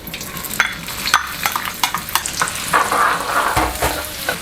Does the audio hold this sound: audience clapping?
no